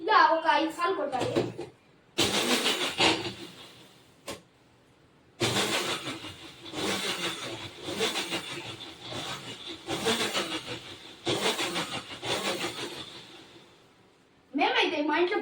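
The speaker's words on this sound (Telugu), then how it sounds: "ఇలా కలిపిన దాన్ని మనం మిక్సీ కొట్టుకోవచ్చు." An electric mixer grinder blending lime juice, sugar and water runs in about five loud pulsed bursts, each several seconds long, separated by brief pauses, with a voice at the start and end.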